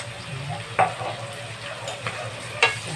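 Pork with bagoong being stirred in a hot pan, a close sizzle broken by a few sharp utensil scrapes and clinks against the metal.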